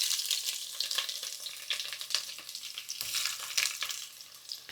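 Onions frying in oil in a pan give a soft, steady sizzle with crackly bursts and occasional stirring scrapes, moderately quiet and without any speech.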